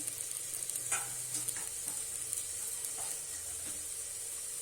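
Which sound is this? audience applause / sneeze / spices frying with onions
spices frying with onions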